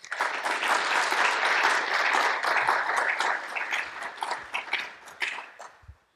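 A conference audience applauds warmly to welcome a speaker. The dense, loud clapping holds steady for several seconds, then thins into scattered claps and fades out.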